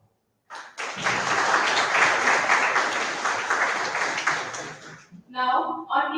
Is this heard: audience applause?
yes